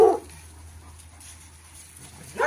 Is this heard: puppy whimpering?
yes